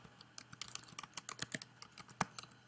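Quick, irregular keystrokes on a computer keyboard while entering data into a Microsoft Access form: close, light clicks in uneven bursts with no voices.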